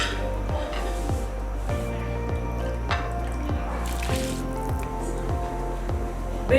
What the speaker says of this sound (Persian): آب جوش اومده